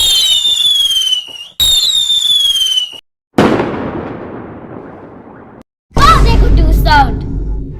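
Diwali firecrackers and a rocket firework going off in a row of loud bursts: sharp cracks and whistling shrieks separated by brief silences, with a long crackling decay and a final loud blast, as someone talks excitedly nearby.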